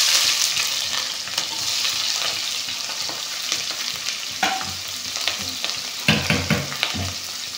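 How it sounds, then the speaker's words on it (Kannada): Sliced onions fry in hot oil for a chicken fry, a steady close crackling sizzle with scattered soft stirring scrapes and small pops throughout. "ಇವಾಗ ನಾನು ಈರುಳ್ಳಿ ಹಾಕ್ಕೊತಾ ಇದ್ದೀನಿ ಫ್ರೆಂಡ್ಸ್"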